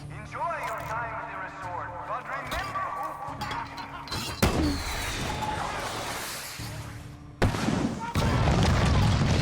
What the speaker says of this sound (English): they're airburst rounds apparently